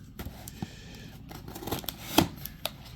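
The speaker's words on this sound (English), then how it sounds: "Or just use my trusty scissors." Trusty scissors snipping through a diecast toy shipping package, a few short crisp cuts and rustles with a sharper snap near the end, close and fairly quiet with no talking.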